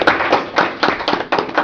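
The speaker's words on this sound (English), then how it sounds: "I'd just like to congratulate Tim and give him a round of applause for getting that." A round of applause at a county commissioner meeting: a handful of people clapping in quick, uneven bursts, close and fairly loud, lasting under two seconds.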